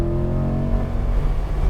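A 2021 Corvette C8 engine pulls hard under throttle on a race track, a loud, steady, close-up mechanical drone with strong tonal harmonics sustained throughout.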